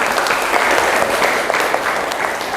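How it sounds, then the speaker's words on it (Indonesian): A group in a classroom claps together, a short, full burst of applause that is close and loud, then tapers slightly at the end. "Oke, tepuk tangan dulu buat kita semua."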